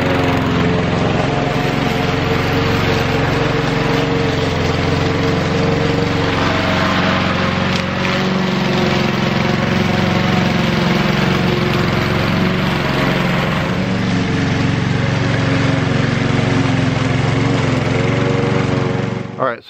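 A lawn mower runs steadily and loudly nearby. Its engine drone holds an even, unbroken tone for the whole stretch.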